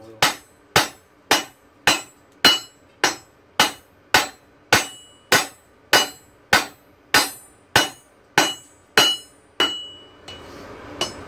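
Hot steel is hammered on an anvil while drawing out a blacksmith-made bottle opener: about fifteen loud, ringing metallic strikes fall in a steady, even rhythm, each with a brief decay, close by and with no talking.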